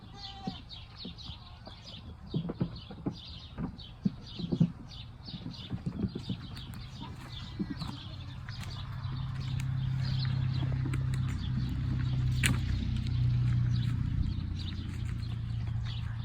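A palomino horse on a farm walks with irregular hoof clops in the first half, then fades under a steady low hum, with faint birdsong in the background.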